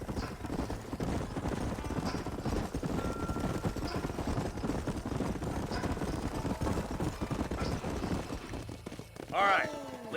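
Horse hooves clip-clop steadily through a Red Dead Redemption ride across New Austin, a continuous galloping patter under game ambience, with a brief louder swell near the end.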